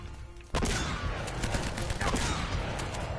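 Shotgun fired in the video game Uncharted: The Nathan Drake Collection, a sudden loud blast followed by a dense clatter of gunfire and impacts that keeps rattling to the end.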